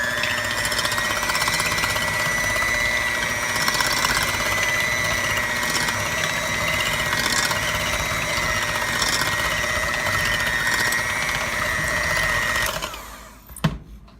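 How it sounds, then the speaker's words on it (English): An electric hand mixer whirs loudly and continuously through cubed cream cheese, a steady motor drone with slight strain as the beaters work, running about thirteen seconds before switching off with a clunk. "So we'll see if my mixer will..."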